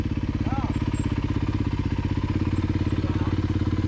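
Motorcycle engine running steadily at a fast idle with a rapid, even exhaust pulse, loud and close throughout, with faint talk over it.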